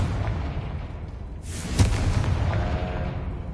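Confringo fire blast spell from Hogwarts Legacy: a muffled booming impact bursts out midway, followed by a rumbling, crackling tail over a low background of game ambience.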